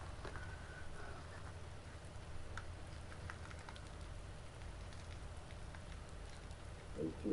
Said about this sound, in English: Yeah, it's still raining.